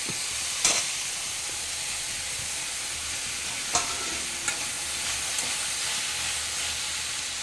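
Chopped tomatoes with mint and curry leaves sizzle steadily in a pan, broken by a few sharp scrapes and knocks of a stirring spoon, with no talking.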